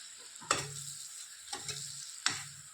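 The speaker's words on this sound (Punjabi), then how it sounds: "ਇੱਕ ਵਾਰੀ ਆਪਾਂ ਚੰਗੀ ਤਰ੍ਹਾਂ ਨਾ ਮਿਰਚਾਂ ਦੇ ਵਿੱਚ ਮਿਲਾ ਲੈਣੇ ਮਸਾਲਿਆਂ ਨੂੰ" Green chillies frying with spice masala in a pan, a soft sizzle under three sharp clinks of a spoon against the pan as the spices are stirred in, about a second apart.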